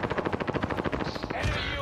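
Rapid automatic gunfire from a CRM gun in Warzone, a fast even burst of sharp shots that stops abruptly, followed by a brief rumble.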